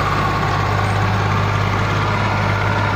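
Swaraj 744 FP tractor, 2007 model, with a diesel engine running steadily. A constant, loud low-pitched drone continues evenly for three seconds, alone and with no talking.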